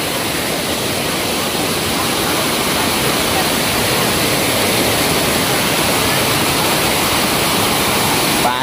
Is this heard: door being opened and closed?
no